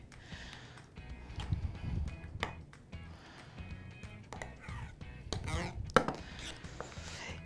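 A spoon scrapes and clinks against a jar while almond and hazelnut butter is stirred in a home kitchen, with irregular soft knocks and a few sharper taps close by.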